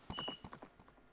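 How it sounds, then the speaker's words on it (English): The horse Epona in the video game Majora's Mask clops along with a quick rhythmic run of hoofbeats, with a faint whinny-like tone over them, close and moderately quiet. "we're going to make this easier on my ears because Epona's going to keep neighing"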